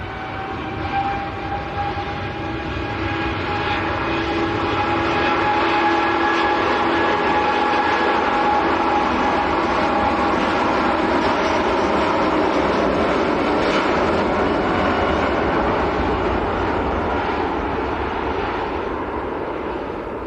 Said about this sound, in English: Aer Lingus XLR's coming out right behind it.